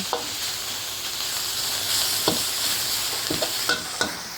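Sun-dried pork is stir-fried in a hot pan for a Thai om stew, giving a steady loud sizzle and hiss with occasional scraping knocks of the spatula against the pan.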